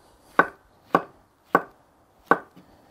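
A knife slices button mushrooms on a board, four crisp, evenly spaced chops close up with quiet gaps between them.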